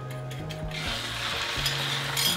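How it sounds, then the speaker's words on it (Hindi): Egg frying in a little oil in a non-stick frying pan over high heat, seasoned only with salt: a steady, close sizzle with a faint hum beneath, and no talking. "ये मेरा फेवरेट फ्राई पैन इसके अंदर मैंने थोड़ा तेल डाल दिया"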